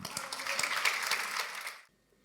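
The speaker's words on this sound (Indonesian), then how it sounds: "Kita tepuk tangan." A church congregation claps together in a dense burst of applause for about two seconds before it cuts off abruptly into near silence.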